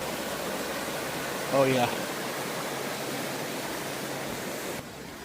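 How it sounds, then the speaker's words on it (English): Creek water rushes steadily and evenly at Smokemont campground in the Great Smoky Mountains, a close, continuous hiss that fills the background while a person briefly speaks over it. "I have my very own access to the creek."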